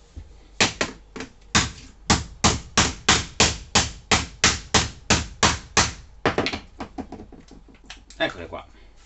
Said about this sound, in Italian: le lancerò sul pavimento e gli darò due martellate